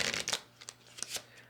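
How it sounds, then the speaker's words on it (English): A deck of playing cards is shuffled close by, with quick papery riffles and flutters in short bursts and soft taps between them. "So I've shuffled my cards."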